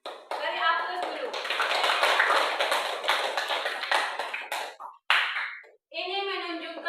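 A class applauds, with a burst of many hands clapping steadily for several seconds and then fading. A voice speaks over the start and end.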